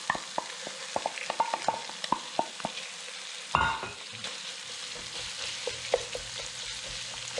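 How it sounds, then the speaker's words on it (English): Ground hamburger meat for sloppy joes sizzles steadily in a pan while a utensil breaks it up, giving frequent close scraping and tapping clicks over the frying hiss. "I'm going to break this up and get it brown."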